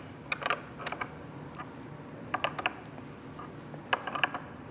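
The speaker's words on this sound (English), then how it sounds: "Take our 14mm wrench." A 14mm wrench tightens the mirror mount on a scooter, producing several short bursts of close metallic ratcheting clicks separated by brief pauses, with no talking.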